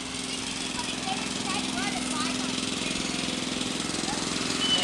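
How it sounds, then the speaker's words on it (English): A lawn mower drones steadily outside a house, a continuous low engine hum at moderate distance with faint voices in the background. "Sarah, get away from him while he is mowing."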